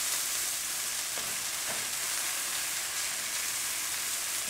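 Onions frying in a pan give off a steady, close sizzle and crackle with no voices over it.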